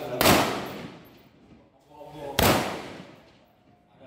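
A Pindad SS2-V5 A1 assault rifle fires two loud single shots about two seconds apart outdoors on a firing range, each sharp crack trailing into a long rolling echo.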